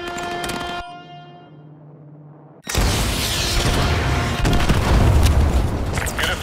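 An AGM missile slams into a BTR armored vehicle in Call of Duty: Modern Warfare 2. After a tonal hum and near-silence, a sudden loud blast erupts and keeps roaring and rumbling for several seconds.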